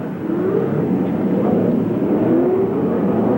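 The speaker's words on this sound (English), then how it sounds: "the engines have in fact been started. That familiar roar that we'll be hearing here" Indy race car engines at the 1978 Phoenix Jimmy Bryan 150, a dense continuous roar of several cars idling and revving together, heard from some distance.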